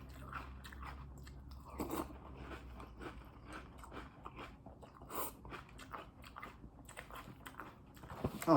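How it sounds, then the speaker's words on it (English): Halloween Fruity Pebbles cereal stirred into milk is chewed close to the mic, with repeated soft crunches and wet bites in an irregular rhythm and a louder crunch near the end. "I like to stir them up in my milk before I eat them"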